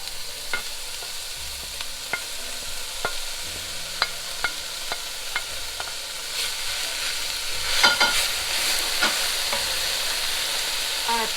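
Beets tumble into a pan of softened frying onion for borscht, a steady low sizzle broken by sharp scattered clicks and scrapes of stirring, with a brief louder clatter of pieces landing partway through.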